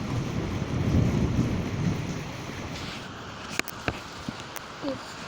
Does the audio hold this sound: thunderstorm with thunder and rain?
yes